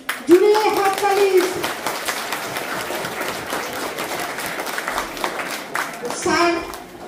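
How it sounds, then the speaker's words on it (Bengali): Applause ripples through a school assembly hall during a uniform distribution event, a steady wash of many hands clapping for several seconds with a voice speaking briefly at the start and again near the end. "জুড়ে হাততালি"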